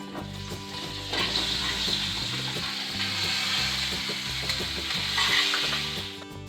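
Aloo gobi potatoes and cauliflower sizzle and fry steadily in a hot pan with spices during a cooking class in Shimla, a continuous loud crackling hiss with a low rhythmic background hum.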